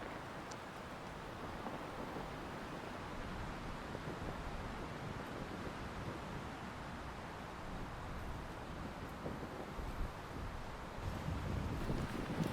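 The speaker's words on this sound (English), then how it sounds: "The strong gorge winds typically greet you as you emerge and head up a few longer switchbacks on the side of the Beacon Rock." Strong gorge winds buffet an exposed switchback trail on Beacon Rock in Beacon Rock State Park, Washington, a steady, loud broadband roar with gusty microphone rumble that lasts throughout and swells slightly toward the end.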